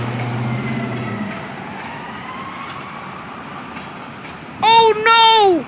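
Trains passing through Elkhart, Indiana: a steady rail rumble carries through, then two loud, close horn blasts sound near the end, with a brief voice at the start.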